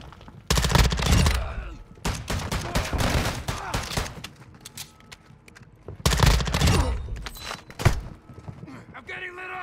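Loud bursts of automatic gunfire in the video game DMZ come in several heavy volleys with brief lulls between them, along with scattered single shots and thuds.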